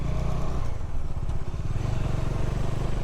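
Motorbike engine droning steadily up close while riding through city traffic on the way to the office in Navi Mumbai, a continuous low rumble with slight revving and clatter, no voices.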